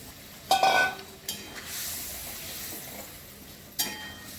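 Boiled eggs go into a bubbling spiced curry gravy, giving a few sharp clattering splashes over a soft, continuous simmering sizzle close by.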